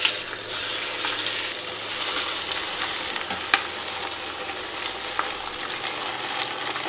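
Browned beef for a Polish tripe soup goes into a hot pot and fries with a steady, close sizzle, broken by a few sharp stirring clicks.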